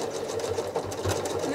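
A sewing machine stitches concentric circle quilting lines, a steady fast mechanical whirr with rhythmic needle chatter, close and continuous for a brief moment.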